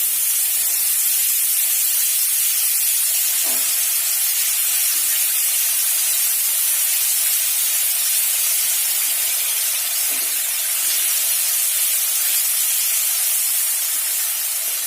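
A spice paste with turmeric and chili fries in hot oil for a fish and ground-vegetable curry, giving a loud, continuous sizzling hiss that stays steady throughout, close up.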